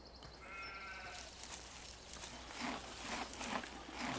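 Sheep bleating in the Farming Simulator 17 video game, a few close, wavering bleats near the start, then soft footstep-like crunching and ambient noise without speech.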